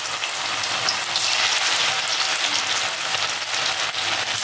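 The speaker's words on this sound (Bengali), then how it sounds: "আমি এখন এগুলো বড়ার আকারে ছোট করে ভেজে নেব" Bread pakora batter fries in hot oil with a dense, even crackling hiss that holds steady throughout, close up and without any speech.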